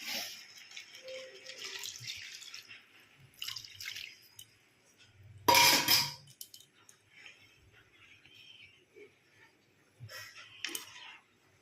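Water being poured into a pan of spiced fish curry, with light drips and splashes and one loud burst of pouring in the middle, quiet kitchen sounds in between.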